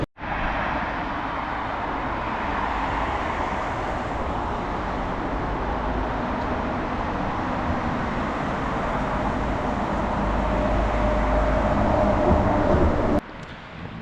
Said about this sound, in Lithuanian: nuolatos aplink mane važinėja mašinos, dar pučia vėjas